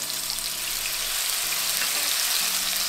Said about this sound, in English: Oh, it's got a nice sizzle there.